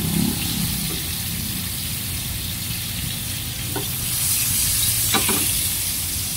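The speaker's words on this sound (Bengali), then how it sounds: "তেলটা এমন গরম হয়েছে, মাছটা দেওয়া মাত্র তেলগুলো ছিটে যাইতেছে।" Snakehead fish frying in very hot oil, a loud continuous crackling sizzle with spattering, a few sharp clicks of turning the pieces, close and without talk.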